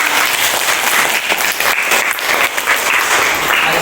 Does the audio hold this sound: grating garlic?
no